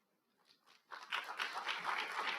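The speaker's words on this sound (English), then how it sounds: "there was a delayed clap there." An audience at a Rochester State of the City event starts clapping late, a few scattered faint claps swelling into fuller applause after about a second.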